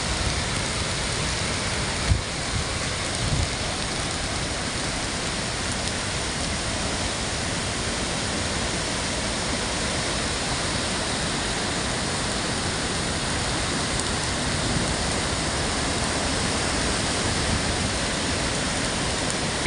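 Water pours steadily down Manimuthar waterfall in heavy rain, a loud, unbroken roar of rushing water that holds the same dense level throughout, with no voices.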